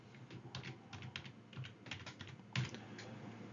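Light tapping on a computer keyboard as a word is entered into a spreadsheet cell, a dozen or so soft keystrokes in an uneven rhythm with one heavier press near the end, close and quiet without speech.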